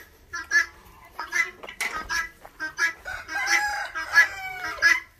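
A rooster crows nearby on a poultry farm among bursts of clucking from chickens, the calls coming in uneven, overlapping bursts at moderate loudness.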